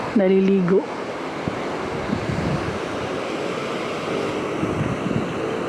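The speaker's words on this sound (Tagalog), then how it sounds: "Pacific Ocean harap. Kaya ano siya, maalon." Rough Pacific Ocean surf washes onto a beach in a steady, full roar mixed with wind, after a short tonal sound at the start.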